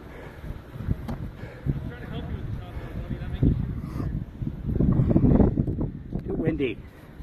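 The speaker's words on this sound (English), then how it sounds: "Sorry guys, it's too windy." Strong wind buffets an outdoor microphone, making a low, rumbling roar that swells and gusts louder toward the end. Speech is faintly mixed underneath.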